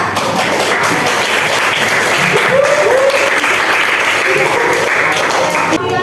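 Steady applause from participants in a classroom session, many hands clapping continuously and densely for several seconds at close range.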